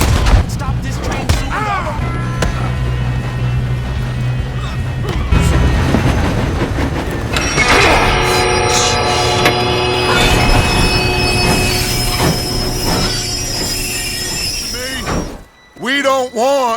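A steam-era train in the Red Dead Redemption video game rumbles along with rattling cars and drawn-out squealing wheels, loud and continuous, with shouting voices and gunfire-like bursts over it before a sudden drop near the end.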